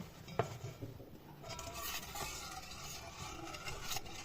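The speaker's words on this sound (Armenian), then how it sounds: "Ու խառնում ենք։" Eggs and sugar for waffle batter stirred in a bowl, a quiet steady scraping and swishing with an early clink of the utensil against the dish, close and faint with no talk.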